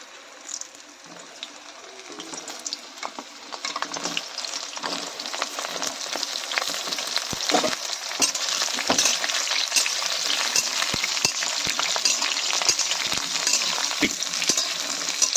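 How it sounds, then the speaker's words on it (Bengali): Pieces of pointed gourd (patol) frying in hot oil in a wok give a steady, close sizzle that grows louder after the first few seconds, with sharp crackles and pops breaking through all the way to the end. "প্রথমে আমি পটলগুলোকে ভেজে নিচ্ছি"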